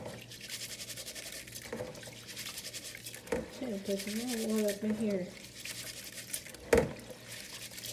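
Raw rice is swished and rubbed by hand in a bowl of water to make rice water, a steady wet scrubbing and sloshing that runs throughout while a person talks over it in the middle.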